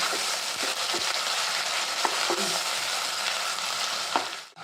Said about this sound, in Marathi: आता यात आपण हे वाटलेलं वाटण घालूया. आणि असं थोडंसं परतून घ्यायचं.